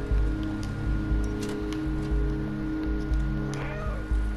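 A cat character meows a few times in the video game Stray, short cries over a steady bed of game ambience with rain-like patter and low rumble.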